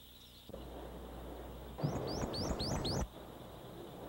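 A prothonotary warbler's run of bright, rising whistled notes repeats several times in quick succession over a soft background hiss, lasting just over a second, in Okefenokee Swamp.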